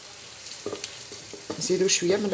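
Onions sizzle and crackle in hot oil as they fry toward caramelized for an Indian biryani, with stirring clatter and a bubbling hiss that swells louder toward the end.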